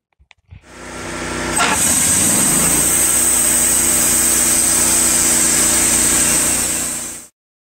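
A motor revs up and a sawmill blade cuts steadily through an oak log, producing a loud, even whine that holds for several seconds before stopping.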